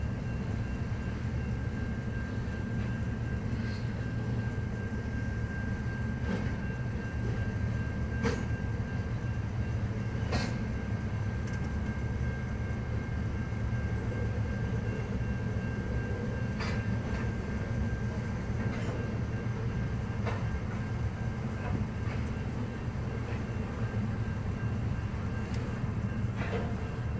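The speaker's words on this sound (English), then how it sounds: "roughly a 6-minute train" Long train rolling past steadily, a continuous low rumble of wheels and cars with a faint steady tone and occasional clicks of rail joints, heard from a moderate distance with no talking.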